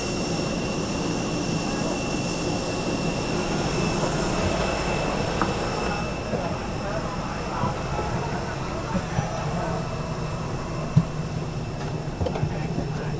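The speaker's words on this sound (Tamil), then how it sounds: "ஏர் பஸ் தான்" Airbus passenger jet engines roar steadily throughout, a continuous broadband rumble and whine heard from inside the cabin, with a few faint thumps and clicks on top.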